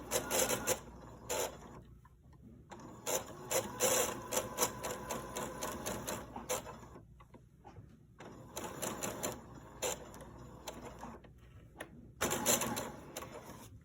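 A sewing machine stitches fabric pieces for a chicken-shaped grocery bag holder, running in several bursts of rapid mechanical clatter separated by short pauses, close and fairly loud.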